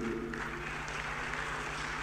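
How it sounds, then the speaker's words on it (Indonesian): Audience applause at a lively televised debate, a dense steady patter of many hands filling the whole stretch at moderate loudness, with no voices standing out. "Tepuk tangannya meriah"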